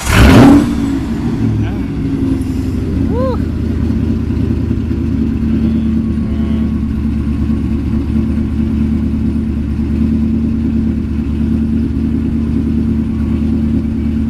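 A car engine revs hard, then holds a loud, steady exhaust drone that runs almost unbroken through the whole stretch, close to the microphone, with brief voices near the start.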